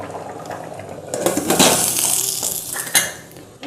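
A metal pressure cooker lid clanks and scrapes shut over boiling chicken biryani, with sharp close metallic knocks and a brief rattle over the simmering pot.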